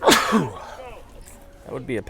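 A man's sneeze bursts out near the start of a youth 13U baseball game broadcast, loud and close, with commentator talk continuing around it.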